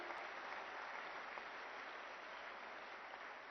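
An audience at a Delhi government health event applauds for JP Nadda, a dense, even roar of clapping that stays steady and distant-sounding, band-limited and fairly quiet, with no talk over it.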